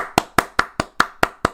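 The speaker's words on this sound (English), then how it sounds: "Applause for Matt." Seven sharp, evenly spaced hand claps from a small group of game-show players, clapping for a contestant on an at-home trivia quiz episode with no studio audience, close and brisk with no talk.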